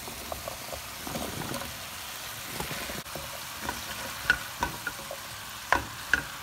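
Cabbage stir-fried in a pan for Shirazi cabbage rice gives a soft, steady sizzle. Scraping stir strokes and spoon clinks come through at irregular intervals, close by and without voices.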